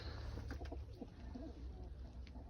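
Low, soft tumbler pigeon coos repeat over a steady background hum, faint and close together, while the birds are being fed.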